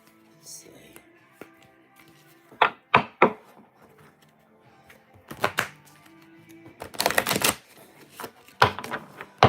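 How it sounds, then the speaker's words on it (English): A deck of cards being shuffled at a live past-life reading session comes through as several quick, close riffling bursts spaced a few seconds apart, with quiet shuffling and handling noises in between. "I want to make sure they're shuffled really good."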